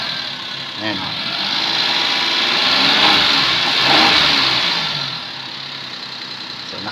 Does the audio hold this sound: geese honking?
no